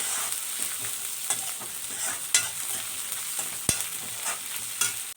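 Garlic, ginger and tomato sizzle steadily in a hot pan, with a few sharp scrapes and clinks of a spoon stirring.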